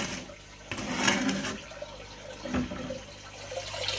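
Water rushes steadily from a newly running pond filter switched from a 2000 litre to a 1400 litre unit, a strong continuous flow with brief louder surges, close and without talk.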